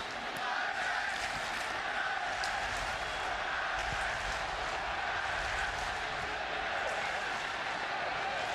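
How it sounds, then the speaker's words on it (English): A football stadium crowd roars at a Manchester United versus Inter Milan match, a steady, loud, far-off wash of cheering and shouting with a commentator's voice faintly over it. "That's certainly got the crowd going again."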